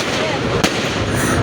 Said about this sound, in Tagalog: Ayan na ang pa-fireworks ng lalaban.